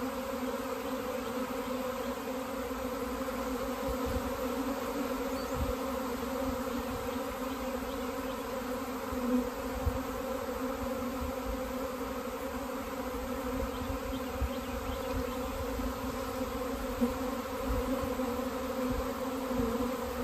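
A honeybee swarm being hived hums with a dense, continuous buzz, steady and moderately quiet, with a few scattered nearer bees droning past and no voices.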